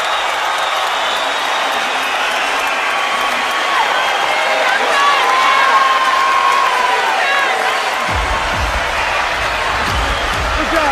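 A boxing arena crowd roars and cheers at a Terence Crawford versus Raymundo Beltran fight, a loud sustained wash of shouting and whoops with a commentator talking over it.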